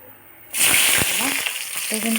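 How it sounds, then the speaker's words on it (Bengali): Chopped onions hit hot oil with a sudden loud sizzle that keeps crackling and hissing steadily, with a few stirring clatters. "এখন কিন্তু আমি আমার এই পেঁয়াজ কুচিগুলো তেলে দিয়ে দিব।"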